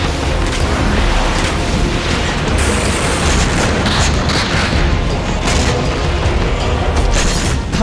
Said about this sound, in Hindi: धमाकों का शोर, मिसाइलों का जोर